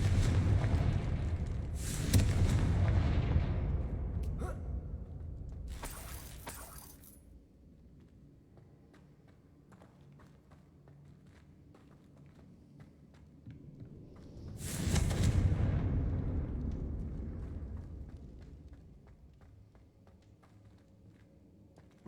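Two booming blasts from the Confringo blasting curse in Hogwarts Legacy, each with a sharp crackling onset that rolls into a long, fading rumble, separated by a quieter stretch.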